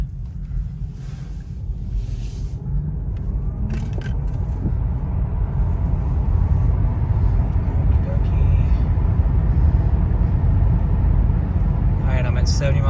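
A Tesla Model 3 Performance Highland fitted with wheel spacers cruises at about 70 mph, giving a steady loud rumble of road and wind noise in the cabin while someone talks over it.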